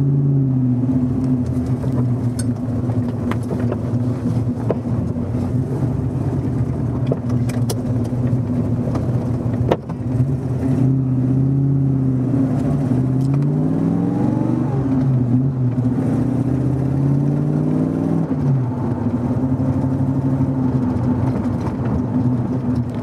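A cold Chevrolet S10 truck engine, not yet warmed up, idles loudly and close with a steady low rumble, then revs up and back down a few times, its pitch sweeping before settling again.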